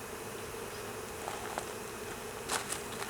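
Honey bees buzzing around a hive during a split, a constant dense hum close by with a few brief louder passes of individual bees.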